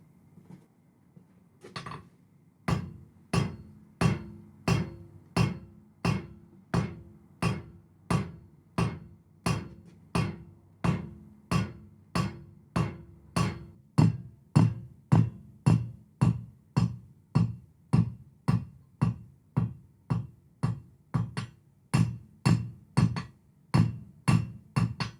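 A hammer draws a quick one-heat taper on 6mm steel round bar for a forged octopus sculpture, striking about forty steady, evenly spaced blows up close, with nothing else heard.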